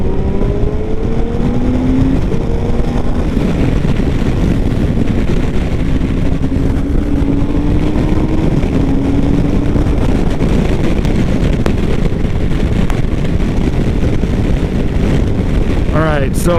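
BMW K1600GT motorcycle cruising on a highway, a steady loud engine drone and rushing wind noise throughout with the pitch climbing slightly as it rolls on, close and continuous with no one talking.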